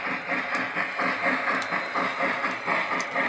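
A Lionel LionChief Plus 2.0 model steam locomotive chuffs at slow speed in a steady, even rhythm of soft hissing puffs, close and moderately loud, with faint ticking clicks between them.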